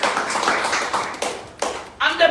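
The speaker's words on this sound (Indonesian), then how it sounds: "Beri tepuk tangan dulu yang baik buat Tuhan kita yang hebat itu" A church congregation claps for God during a Sunday service. The applause comes in uneven bursts, mixed with voices.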